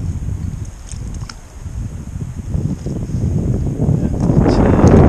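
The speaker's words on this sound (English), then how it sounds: "Wind's blowing towards us" Wind blows across an open fishing lake at a match-fishing venue, a steady rumbling buffet on the microphone that swells louder toward the end, with no speech.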